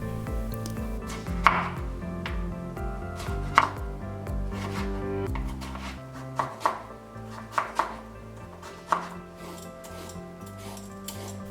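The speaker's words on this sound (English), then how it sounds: "Peel it well, and we will cut it into cubes." A knife chops peeled pumpkin into cubes on a board, with close, distinct thuds in an irregular rhythm, a steady run of cuts, then sparser separate strokes.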